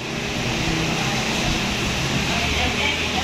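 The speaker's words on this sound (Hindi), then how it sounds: "बारिश कितनी तेज़ है।" Heavy rain roars as a constant broadband wash outside a restaurant in Karachi during a storm, with voices talking over it.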